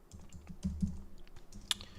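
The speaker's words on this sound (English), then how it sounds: "while I'm just typing out these lineups" Typing on a computer keyboard, a quick irregular run of soft clicks and taps close by, with one sharper keystroke near the end and no talking.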